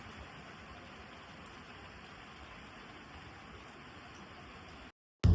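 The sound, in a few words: heavy rain falling outside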